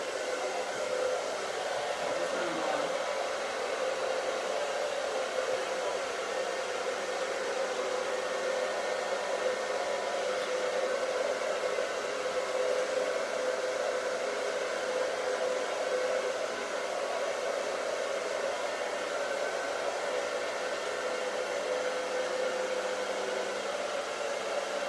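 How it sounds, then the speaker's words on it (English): A hair dryer blows continuously on a low, cold setting with a steady, even whooshing hiss, close by. "So I have my hair dryer here."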